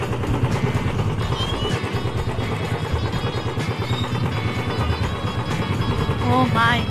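A motorcycle engine runs steadily and fairly close, a continuous droning rumble that holds through the whole stretch in an outdoor natural setting, with a voice briefly audible over it.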